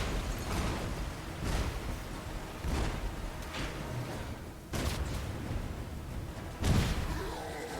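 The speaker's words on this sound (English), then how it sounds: "An explosion?" Explosions and heavy impacts in the Marvel's Avengers video game during a Hulk chase sequence, a series of booming blasts roughly every second or so over a rumbling action soundtrack.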